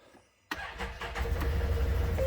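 A Ford Maverick's engine cranks and catches with a sudden burst, then settles into a steady, loud idle rumble close by.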